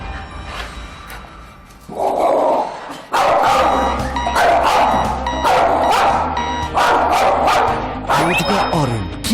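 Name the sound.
dog barking fiercely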